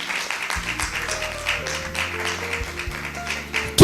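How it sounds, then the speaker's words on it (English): Audience clapping at a law conference rolls on as a soft, continuous patter of hands under music with low sustained tones and some talk, growing suddenly louder at the very end. "Keep on clapping. Keep on clapping."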